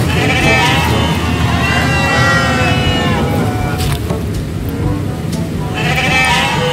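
A goat eating outdoors bleats loudly and close by at the start and again near the end, over continuous background noise.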